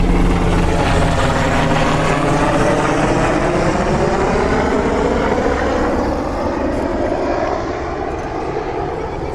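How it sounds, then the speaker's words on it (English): Loud, steady rotor and engine roar of a helicopter passing overhead, its pitch slowly sliding downward as it moves away. "I hear a helicopter."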